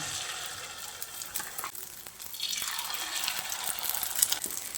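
Omelette batter with boiled potato poured into hot mustard oil in a frying pan, a faint hiss that swells into a broad, steady sizzle, quiet and close with no voices.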